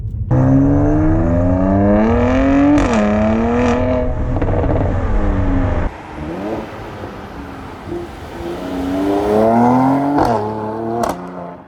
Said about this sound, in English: particularly from the outside under full load, but the V6 sounds controversial, just as good for me